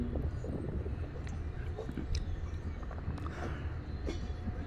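A Gandhidham–Kamakhya Express passenger train rumbles steadily along the tracks near Idgah, Agra, with low droning, rhythmic wheel clatter and occasional metallic squeaks, heard from inside.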